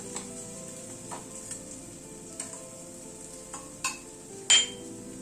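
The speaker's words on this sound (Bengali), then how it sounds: "মশলাটাকে মিনিট 2-3 সময় ধরে কষিয়ে নিলাম।" Spice masala paste frying in a pan, with a low continuous sizzle and occasional soft clicks and scrapes of stirring, the last one louder, close by with no speech.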